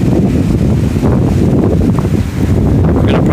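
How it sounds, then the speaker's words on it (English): Strong wind at Kapalua on Maui buffets the microphone in a loud, constant low roar that runs the whole time without letup, with no voices heard. "Always got that north to south, east to west wind."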